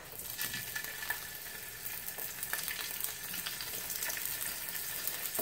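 Shrimp sizzling steadily in a hot pan, a loud, continuous frying hiss with faint stirring scrapes, no talking over it.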